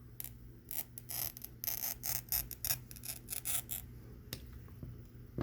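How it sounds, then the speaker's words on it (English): Glass cutter with a pistol grip scoring a sheet of glass, a series of close, rasping scrapes in uneven bursts, loud against a quiet background. "you want to create a score that creates a weak spot in the top of the glass"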